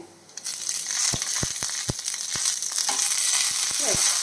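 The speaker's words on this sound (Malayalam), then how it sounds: "രണ്ട് ചെറിയ ഉള്ളി ഞാൻ കട്ട് വെച്ചിട്ടുണ്ട് അതും കൂടെ ഇട്ട് കൊടുക്കുന്നത് ഇപ്പോൾ കുറച്ച് കറിവേപ്പിലയും കൂടെ ഇട്ട് കൊടുക്കുന്നേ" Small shallots and curry leaves dropped into hot oil for a raw mango dish, setting off a loud, steady close sizzle punctuated by sharp pops and crackles throughout.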